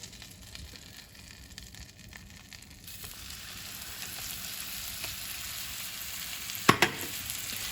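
Meatballs sizzling in a hot pan, a steady close frying hiss that thickens as they go in, with a brief sharp clink near the end and no talk.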